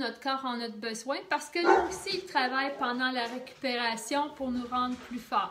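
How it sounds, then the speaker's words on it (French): A dog barks repeatedly in the background in short yips and woofs, scattered under a woman's continuous, clearly louder talking. "Désolée pour le chien en background"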